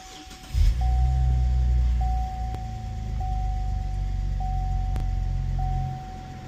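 A 2016 Cadillac ATS-V with a completely stock exhaust fires up with a loud low burst, then settles into a steady, deep idle nearby while a repeating electronic chime beeps at even intervals.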